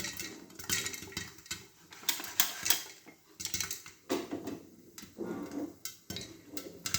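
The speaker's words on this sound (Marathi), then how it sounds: "तुम्हाला मस्त असं तडतड लायाचा आवाज येत असेल" Uneven bursts of crackling and popping from sorghum grains in a pressure cooker, close by, with brief quiet gaps between clusters of snaps.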